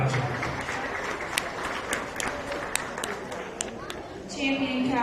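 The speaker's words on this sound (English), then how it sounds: "So let's give them a big round of applause" Audience applause at the O'Brien County Fair beef show, after the cow-calf pair class: steady clapping from a crowd, moderately loud and sustained, with voices mixed in.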